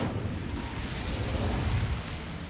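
Incendio fire spell blast in a magic video game, a sustained rumbling whoosh with low booming roar and crackling texture, steady and fairly loud throughout with no voices.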